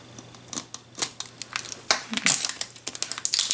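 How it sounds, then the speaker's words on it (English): Scissors snip and crunch through the glued plastic wrapper of a mini fashion ball, giving a rapid, uneven series of close crinkling cuts while a voice talks over them. "Try to cut it open instead."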